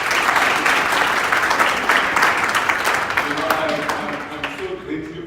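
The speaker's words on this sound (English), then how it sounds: "Can you guys give yourselves a round of applause?" Loud, dense applause from a crowd of university learners at a motivational address, strong at first and then thinning out as voices and cheers come through near the end.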